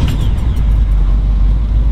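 A 1955 Chevy Bel Air resto-mod with a 350 V8 and 700R4 transmission idles with a loud, steady, deep rumble close by, without any talk.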